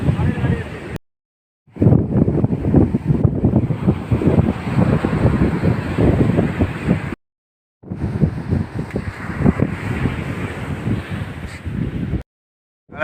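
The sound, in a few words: strong wind at the seashore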